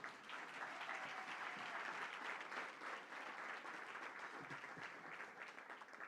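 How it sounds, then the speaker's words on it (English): Steady applause from an audience at a leadership awards reception and dinner honoring a Chicago congresswoman, continuous and fairly distant, holding even for about six seconds with no one speaking. "Now y'all can applaud."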